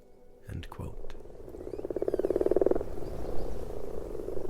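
A frog gives a loud, rapid pulsing croak lasting about a second, with other croaks and a faint voice in the background.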